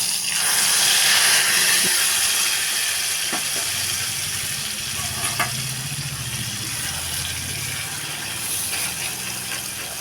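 Green bean paste frying in plenty of hot oil with black cumin, a loud, steady sizzle and hiss with occasional stirring scrapes, continuous and close, with no voices.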